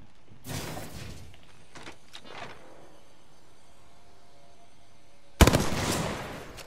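Gunfire at a cargo bot in the Apex Legends video game: a short burst of shots early on, a few fainter cracks, a quiet stretch, then a loud, abrupt, heavy volley near the end.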